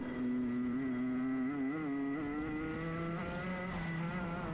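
Racing kart engine at full power over a very rough section of a Victorian circuit during a masters heat, its wavering high whine rising and dipping as the kart bounces, loud and steady throughout.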